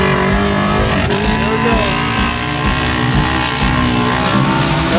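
Race cars on a Michigan dirt track roar past continuously, engines loud and droning with a rising, wavering pitch, while a person talks briefly over them.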